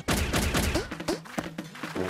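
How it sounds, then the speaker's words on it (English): Cartoon launcher from a children's animated rescue show pops out bouncy balls in a quick series of bright, bouncy thumps and pops, loud and close, with no talk over it. "Use your launcher to send some real bouncy balls."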